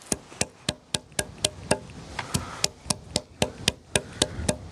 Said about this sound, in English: I get a hammer and then I just chop away slowly at the roots